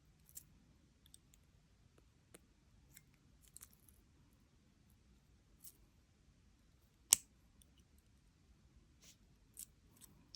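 Jewelry wire trimmed with small cutters while making simple-loop cluster earrings: a few faint, sharp snips and clicks, one distinctly louder cut near the middle, over a quiet background with no talk.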